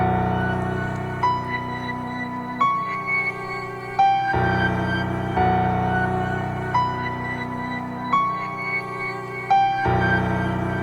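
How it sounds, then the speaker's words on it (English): A simple, dark orchestral piano melody built for a hip-hop beat, with steady repeating phrases and sustained low tones underneath, loud and alone with no talking. "It was just a simple piano orchestral melody."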